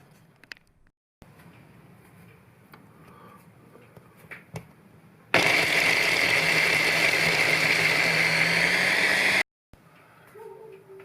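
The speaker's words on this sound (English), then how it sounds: "I just processed up that stuffing mix, or the start of our stuffing mix" A food processor whizzes chicken roulade stuffing mix in one loud continuous burst of about four seconds, with quieter kitchen handling before and after.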